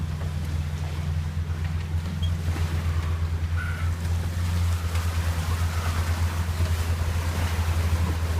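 A boat motors through confused, choppy swells at around nine to ten knots, with a steady low engine drone and the wash of water and wind around the hull, continuous and fairly loud, without speech.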